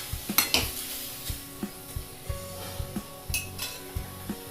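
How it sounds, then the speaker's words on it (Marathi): A spoon scrapes and clinks against a pan while tomato sauce with onion, garlic and ginger is stirred, giving a series of light, irregular metallic knocks close by with a faint background hum. "हलवून घ्यायचे आता।"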